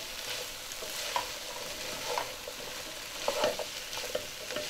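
Cauliflower and potato pieces coated in masala are stirred in a pan, giving soft scraping strokes at a steady rhythm over a light, continuous sizzle; close and moderately quiet, with no talking.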